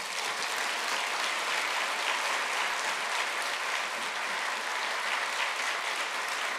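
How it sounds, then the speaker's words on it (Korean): Audience applause welcoming a speaker at a church gathering, a steady, dense wash of many hands clapping, loud and sustained throughout with no voices. "나오실 때 큰 박수로 환영해 주시면 감사하겠습니다."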